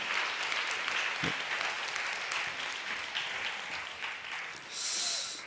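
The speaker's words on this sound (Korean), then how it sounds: "다시 한번 우리 예주를 위해서 큰 박수와 격려 부탁드리겠습니다" A church congregation at an all-generations worship service applauds for a young girl named Yeju, a soft, steady wash of many hands clapping that carries on throughout, with a brief hiss-like swell near the end.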